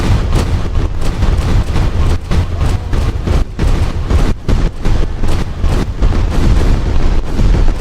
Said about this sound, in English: all the fireworks here are really lagging my game.